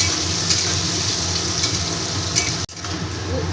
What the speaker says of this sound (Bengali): ভালো করে এবার ভেজে নেব ওলকপি আর আলুটা